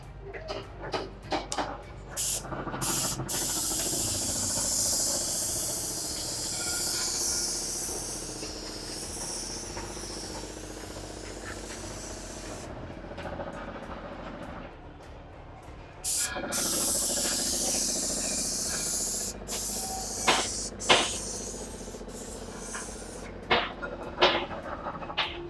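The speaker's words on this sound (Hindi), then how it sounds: "देखिए अब यहाँ पर मैं आपको स्प्रे करके दिखाता हूँ।" A Wagner airless spray gun sprays paint onto a house wall, a loud steady hiss that runs on, breaks off briefly, then resumes with sharp clicks and short bursts near the end.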